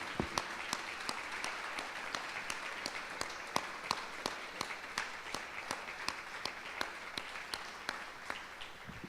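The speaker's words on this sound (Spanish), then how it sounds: "Dale un fuerte aplauso a nuestro Dios." Congregation clapping during a church service, a steady, dense round of applause with sharp individual claps standing out, moderately distant and sustained throughout.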